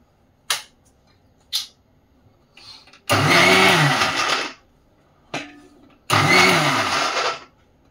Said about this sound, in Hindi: मिक्सरमध्ये टाकणार आहे